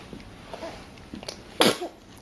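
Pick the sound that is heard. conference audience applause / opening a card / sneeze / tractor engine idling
sneeze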